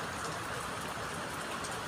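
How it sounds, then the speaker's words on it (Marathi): Rain falls steadily on the Konkan coast at Kalvibandar, Vengurla, with water dripping from the eaves. It makes an even, unbroken hiss with no voices. "पाऊस चालू आहे"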